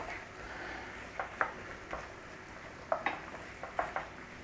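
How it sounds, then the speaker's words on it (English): Onions sautéing in a pan for a corned beef and potato dish, with a faint steady sizzle and soft intermittent stirring clicks, quiet and without talking. "So just saute those onions nice and steady"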